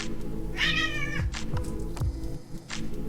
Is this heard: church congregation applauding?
no